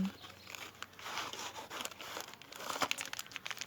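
Crinkling and rustling of thin plastic hair dye, developer and conditioner packets, close up and continuous, with a few sharper crackles near the end; no talking.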